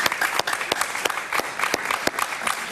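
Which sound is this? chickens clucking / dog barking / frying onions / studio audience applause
studio audience applause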